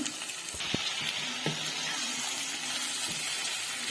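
Prawns sizzle and crackle steadily in a hot pan without water, with a few light clinks of a utensil stirring.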